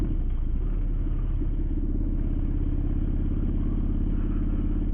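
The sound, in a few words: motorcycle road noise while riding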